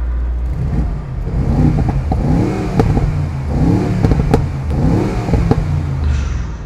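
A 2020 Mercedes G63 engine revs to about 4000 rpm with the exhaust valves open, giving loud, close blips that rise and fall in a repeated rhythm.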